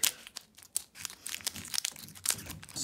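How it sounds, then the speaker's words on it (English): Crinkly plastic wrapper of a Pokémon trading card pack being torn open and crumpled, a series of sharp, close crackling rips with brief pauses between them. "I'm gonna open this pack"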